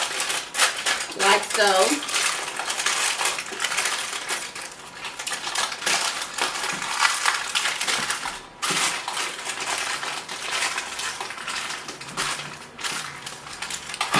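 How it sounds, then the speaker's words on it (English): Heavy duty aluminium foil crinkles and crunches close up as it is crimped together to seal it in a kitchen, with continuous crackling handling and someone speaking briefly over it. "this is heavy duty foil, and I'm going to seal it together"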